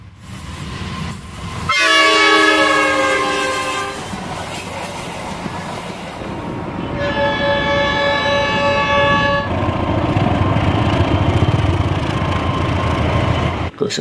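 An Indonesian KRL commuter electric train rumbles past close by, sounding two long horn blasts a few seconds apart over the steady roar of wheels on rails.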